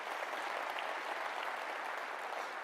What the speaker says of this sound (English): Yeah, you can clap to that.